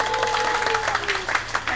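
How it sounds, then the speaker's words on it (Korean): Audience applause aboard a boat during a panel debate on revitalizing the Gyeongin Ara Waterway, steady dense clapping with a faint tonal hum underneath, no voices. "자, 이 와중에 박수 한번 주셔야 되는 거 아닙니까?"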